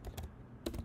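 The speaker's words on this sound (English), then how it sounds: "I'm just typing Young's modulus without the quote" Two short bursts of typing on a computer keyboard, quiet close clicks separated by a brief pause.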